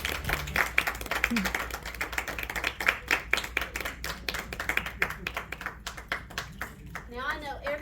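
Scattered clapping from a small crowd at a fashion show, loose and uneven, with voices talking over it.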